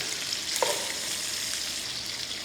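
Chunks of carnitas pork frying in hot oil, a steady close broadband sizzle and crackle that holds evenly throughout with no talking.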